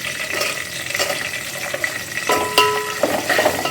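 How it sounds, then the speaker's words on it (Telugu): Onions and masala fry in a pan for vegetable biryani, making a steady close sizzle with bursts of stirring and scraping. A brief clattering knock of the utensil comes partway through. "మసాలా వేసుకొని ఉల్లిపాయలు వేసుకొని వేసుకోవాలండి."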